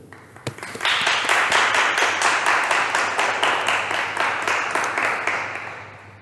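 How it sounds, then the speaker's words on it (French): Parish congregation applauding in church, clapping that starts with a few isolated claps, rises into steady loud rhythmic applause, and gradually eases toward the end. "je pense que nous pouvons l'applaudir"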